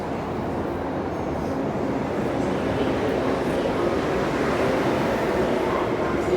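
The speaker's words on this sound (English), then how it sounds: "we did get a C train drive by" A C train rolls through Tai Shui Hang Station, a broad steady roar of wheels and carriages that stays loud and even throughout, with a voice faintly underneath.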